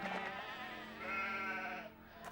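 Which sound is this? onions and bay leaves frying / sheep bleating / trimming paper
sheep bleating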